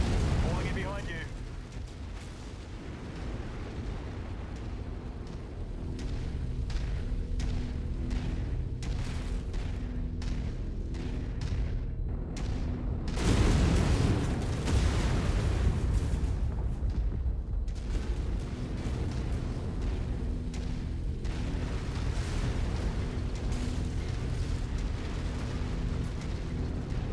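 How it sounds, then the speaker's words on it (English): A deep, booming reactor explosion from a mech in MechWarrior 5, with rumbling blasts and crackling, loud and dense at the peak midway, surrounded by ongoing battle noise and speech. "Reactor explosion detected."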